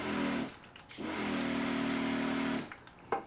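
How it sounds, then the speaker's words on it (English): A battery-powered Vevor backpack sprayer with a plastic tank runs in steady bursts, its pump motor whirring with a tonal hum that starts, pauses briefly, then runs continuously before cutting off, close to the listener with no talk. "So with the backpack sprayer on, as you can see, is on my back."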